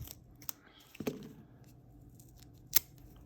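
A few crisp snips of scissors cutting material while fitting a mic pickup to a krar, in a quiet room, spaced irregularly, with a faint rustle between cuts.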